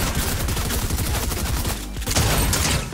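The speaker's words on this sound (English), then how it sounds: "Doing little small tip shots on them." Gunfire in the video game Fortnite, with dense rapid bursts of shots sounding continuously and loudly up close, and no talking.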